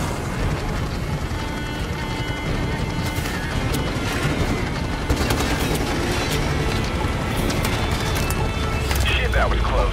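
Gunfire in Modern Warfare Remastered, with dense bursts of shots and booms rattling continuously under radio-style voices in a noisy battle mix.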